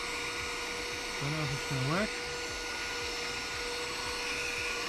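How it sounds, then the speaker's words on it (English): A mini vacuum cleaner sucks water out of a Mercedes-Benz C200 during a repair, giving a steady, close, whining drone throughout while someone briefly speaks over it. "just going to try and see if we can suck out some of the water here. A mini vacuum cleaner."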